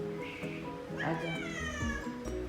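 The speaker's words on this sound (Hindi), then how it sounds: "अम्मू की बिल्लियाँ ये सब मेरे पौधों के पत्ते खाती रहती है।" A house cat meows a few times at moderate distance, drawn-out and rising, with a voice talking quietly around the calls in a home setting.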